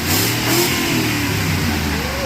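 A van engine revs hard in a close, loud burst that holds briefly and then eases back, with the pitch rising and falling across its short run.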